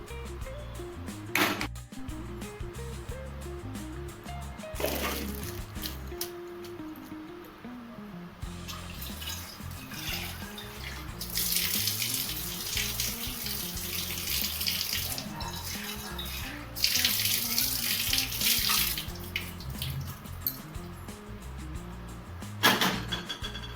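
Boiled sweet corn is drained through a sieve under running water, giving a steady splashing flow close by, with clatters of the sieve and other kitchen handling sounds over the top.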